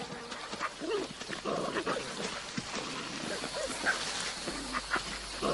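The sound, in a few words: dingo, Australian wild dog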